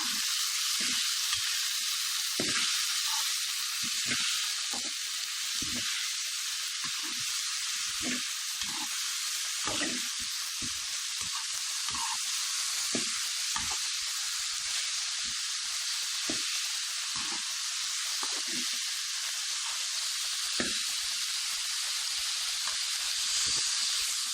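Boiled cauliflower sizzles in a hot pan as it is mixed, a constant bright hiss with repeated soft scraping knocks from the stirring, heard close and alone.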